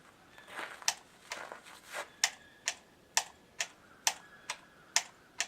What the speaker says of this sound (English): You hear it clicking.